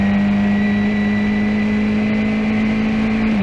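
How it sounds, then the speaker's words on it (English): A Formula 1600 race car engine drones at a steady pitch, loud and close, then drops slightly as it slows near the end. "and the engine stops. It sounds like it stops anyways. It slows down a lot."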